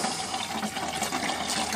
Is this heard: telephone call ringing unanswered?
no